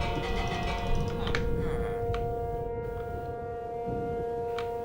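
Tornado warning sirens in a Minecraft weather mod wail steadily throughout, a sustained layered tone with faint bell-like strikes over a low rumbling background.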